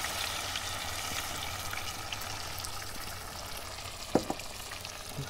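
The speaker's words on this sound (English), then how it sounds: "Stir that in" Pizza sauce being stirred into a camp cooking pot for a chicken parmesan casserole, a steady soft simmering sizzle with a sharp clink of the utensil near the end.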